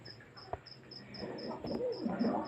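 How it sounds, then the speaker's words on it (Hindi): Insects sing outdoors at night, a steady high chirring pulsed in an even rhythm throughout, over a low murmur of background noise with a soft thump early on. "आपको पीछे से इनकी आवाज़ें आ रही होंगी मच्छरों की।"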